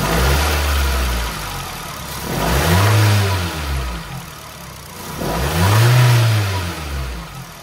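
A Nissan Livina engine with a hesitation fault on acceleration revs up twice from idle, each rise swelling loud, holding briefly and falling back, heard close with no talking.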